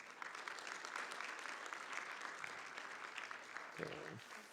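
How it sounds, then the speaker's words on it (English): Conference audience clapping for speaker Anita Dharwadker after her nutrition session, a steady, fairly faint and distant patter of many hands sustained for a few seconds. "So another round of applause, please,"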